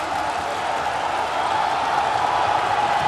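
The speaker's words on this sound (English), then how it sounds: "This crowd is really into it now" Broad, steady crowd roar filling a basketball arena during a Guinea versus Mali FIBA AfroBasket game, a sustained cheer with no distinct claps or voices standing out.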